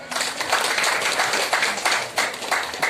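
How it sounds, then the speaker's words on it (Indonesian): A church congregation at a Christmas service claps together in a dense, steady patter of many hands that holds evenly throughout, with no voices over it. "Mari kita berikan tepuk tangan."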